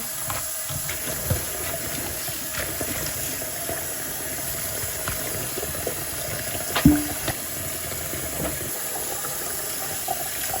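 Bean sprouts washed under running water: a continuous moderate stream from a tap with faint splashing and one brief knock partway through, close by with no talking.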